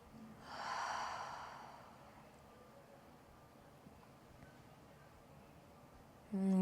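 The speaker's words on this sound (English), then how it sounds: "Take one more breath." A single slow, audible breath during a yoga flow, one soft airy exhale near the start, followed by quiet room tone and a brief bump at the very end.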